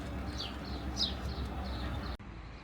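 Small birds chirp in short, scattered calls over a steady outdoor hum on a station terrace at Spiez, Switzerland, the calls fairly faint and distant before the sound cuts off abruptly near the end.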